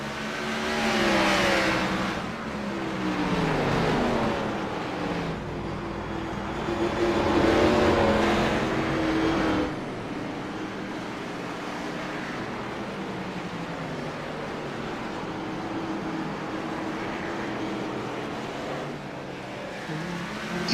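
A race car in an Xfinity Series race roars loudly as it comes off turn 4, its engine rising and falling in pitch while the rear end gets loose. The engine note stays steady and close for the rest of the stretch.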